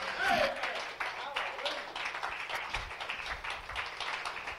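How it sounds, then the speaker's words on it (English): A church congregation applauds and claps for a man during a service, a dense sustained wash of hand claps filling the room, with a brief voice at the start and steady clapping throughout. "Come on, give him a hand clap."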